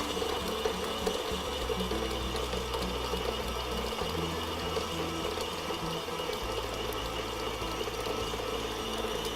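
An electric mixer beats lemon biscotti dough in a bowl with a continuous motor whir and a low churning rumble that shifts slightly in pitch, steady and close with no talking.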